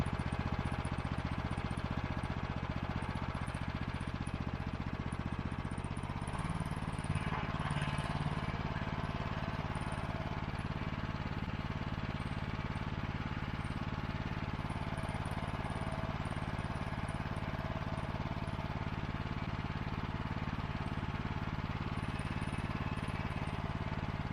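A Champion 4200 PSI pressure washer's gas engine runs at half throttle, producing a loud, steady, rough drone that holds for the whole stretch with no voices over it.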